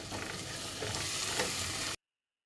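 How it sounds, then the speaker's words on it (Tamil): Shallots, garlic, green chillies and curry leaves sauté with salt in a pan for a South Indian kara kulambu, a steady close sizzle with soft stirring scrapes that cuts off abruptly. "நல்லா வதக்கிக்கோங்க."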